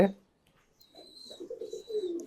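Pigeons coo softly nearby after a brief bump and a short quiet pause, with a faint high whistle-like tone running alongside the low rolling calls.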